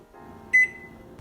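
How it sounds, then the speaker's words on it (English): A microwave oven's steady low hum runs throughout while preheating milk, broken by a short, bright electronic beep partway through. "Preheat please in the microwave."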